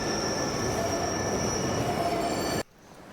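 A metro train in Lyon, France, rolls along with steady loud rumble and a high sustained wheel squeal, then the sound cuts off abruptly near the end.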